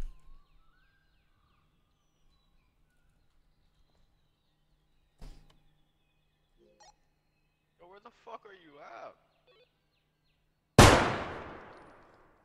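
A single loud, sharp gunshot from a big gun in a realistic body-cam video game, booming out near the end after quiet stretches and scattered softer game sounds, with a ringing tail that decays.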